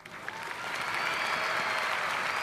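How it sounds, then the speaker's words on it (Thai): An audience applauds to welcome a guest on a Thai show, a steady wash of clapping that swells and holds, fairly loud and dense, with no talk over it. "พวกเราครับปรบมือต้อนรับจอห์นนี่ครับ"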